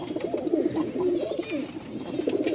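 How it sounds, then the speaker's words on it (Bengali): Kokka pigeon cooing close by, a run of soft, rolling low coos repeating throughout, with faint background noise and no clear talk. "আমরা ককার ডাকটা আগে দেখাই।"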